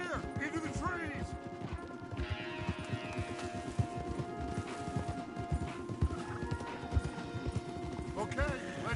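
Rapid, steady clopping of horse hooves close up in Red Dead Redemption 2, with scattered neighs and a voice talking over the rhythm.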